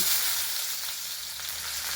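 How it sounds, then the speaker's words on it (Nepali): Onions sizzle and crackle steadily in hot mustard oil, a close, continuous frying hiss with no voices. "अब म यसमा प्याज हाल्छु"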